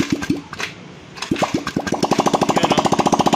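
Small gasoline engine being started during troubleshooting, with a few sharp cranking pulls, then catching and running at a steady fast chug.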